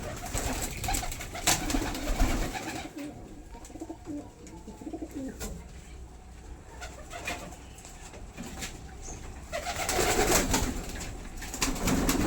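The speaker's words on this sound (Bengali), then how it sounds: "কবুতরের ঘরে আসলে খুব ভালো লাগে।" Pigeons coo steadily inside their loft, a soft continuous chorus of overlapping throaty calls with occasional wing flutters and light rustling nearby.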